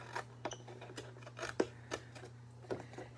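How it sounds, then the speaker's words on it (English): Scissors cut along a score line in crafting material with quiet, irregular snips and rasps, spaced apart over a steady low hum. "we're going to cut on the score line and cut that off."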